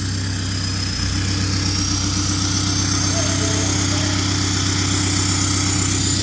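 A Seat Leon 2.0 TDI fitted with a straight-pipe exhaust idles loudly nearby with a steady, rough diesel rumble and throbbing pulse. A brief bump comes near the start, and voices are faint underneath.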